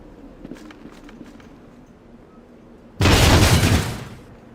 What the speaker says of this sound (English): Power Generator 4, destroyed.